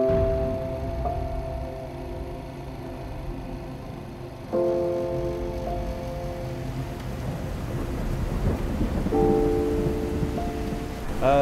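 Steady rain falls in a dramatic telefilm scene, a constant wash of hiss beneath sustained tonal music that swells and shifts in several phrases, with the rain audible throughout.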